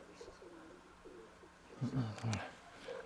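A pigeon's low, soft cooing comes in short bursts, close by, over faint background noise.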